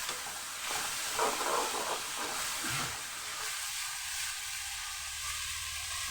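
Chicken meat dropped into hot spiced oil for a homemade chicken dish, giving a steady broadband sizzle with brief louder bursts near the start, close and continuous, with no talking.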